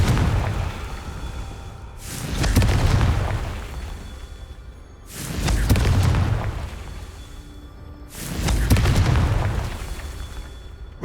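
The Confringo explosive spell in Hogwarts Legacy goes off three times, each a deep, heavy boom roughly three seconds apart that swells and rumbles away before the next one. No speech is heard.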